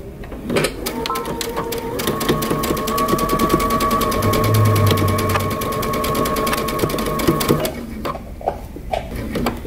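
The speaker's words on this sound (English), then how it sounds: "we're going to go back to the sewing machine and we're going to sew along the edge of our pocket" A sewing machine stitches steadily close along the edge of a shirt pocket, its rapid mechanical chatter running continuously for several seconds, loud and near, with brief pauses at the start and end.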